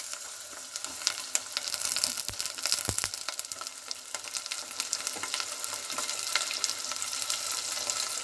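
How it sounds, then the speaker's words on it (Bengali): Washed chicken pieces drop into hot oil and fry with a crackling, spitting sizzle that stays busy and fairly close, with occasional knocks of a spoon against the pan. "এবার আমি কেটে ধুয়ে রাখা চিকেনটা দিয়ে দেবো।"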